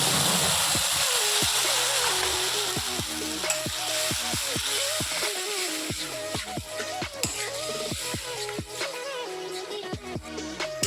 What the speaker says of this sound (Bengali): শুকনো লঙ্কা দিয়ে দিলাম। এবার একটু কালো জিরে ফোড়ন দিয়ে দিচ্ছি।